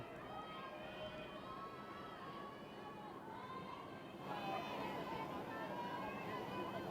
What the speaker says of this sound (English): Hear the chatter from the benches through our crowd mics